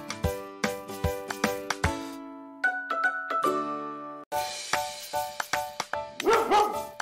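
Musical tones alongside short cartoon dog barks from an animated children's story, repeated in a bouncy rhythm, loud and close, with no speech.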